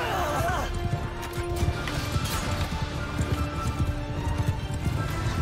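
Cavalry horses galloping in the battle game Mount & Blade 2: Bannerlord, a continuous rumble of hoofbeats amid clashing combat noise, with someone talking over much of it.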